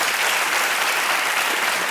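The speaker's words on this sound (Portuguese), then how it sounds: "Posso pedir um aplauso para ele?" Studio audience applause on a television talk show, dense and continuous clapping at an even, loud level from start to finish.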